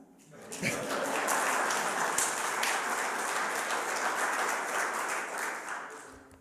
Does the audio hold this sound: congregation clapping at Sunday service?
yes